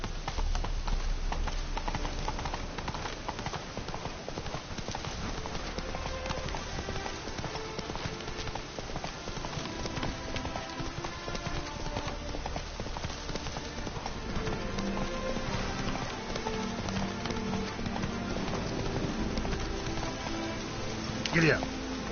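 Horse hooves clip-clop in a steady galloping rhythm in The Witcher 3, continuous and fairly loud over a dense backdrop of game music and ambience, with a voice talking at times.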